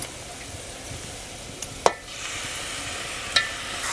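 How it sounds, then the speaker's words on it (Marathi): Chicken goes into a pan of fried spices over a wood-fired chulha, giving a steady close sizzle with a few sharp metallic clinks from the utensil. "मसाले परतून झाले आहेत आता आपण चिकन घालूया"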